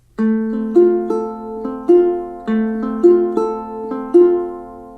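A ukulele fingerpicks a steady repeating pattern for a song at tempo, bright plucked notes ringing over a gentle rhythm, alone and close.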